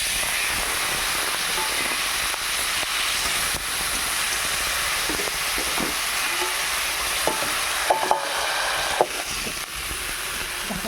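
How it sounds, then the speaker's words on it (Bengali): Potatoes frying in a pan, a loud continuous sizzle with occasional spatula scrapes and clinks as the pieces are stirred, heard up close with no talking. "আলুগুলি ভেজে নিই"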